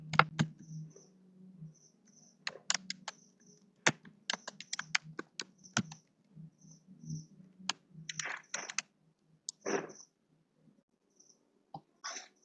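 Computer keyboard typing in bursts of quick clicks with short pauses between, fairly close and moderately loud, with no talking.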